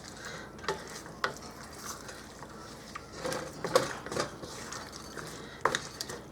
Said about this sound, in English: We're just going to mix that all up in there.